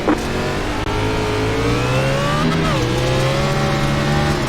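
NASCAR A Class race cars accelerate on a green-flag restart on the Bristol dirt track in the iRacing video game, a loud, sustained chorus of engines rising in pitch together, with one engine note dipping briefly before climbing again.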